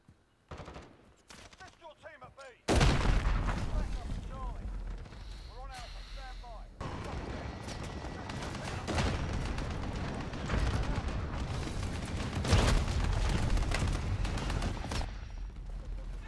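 Repeated shotgun blasts and heavy gunfire in a Call of Duty: Modern Warfare (2019) match, loud and near, coming in dense bursts over game noise from about three seconds on, with excited talk mixed in.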